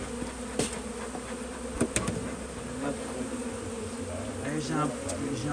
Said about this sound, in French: Et les abeilles avec plein de trucs sur les côtés, avec du pollen là.